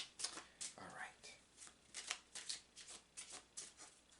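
A deck of oracle cards is shuffled by hand in quick, soft riffling bursts, a dozen or so crisp papery flutters in an uneven rhythm, quiet and close with a faint voice murmuring underneath.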